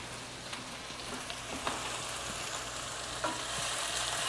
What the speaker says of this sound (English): I'm gonna head back over to the chicken again because I can hear it sizzling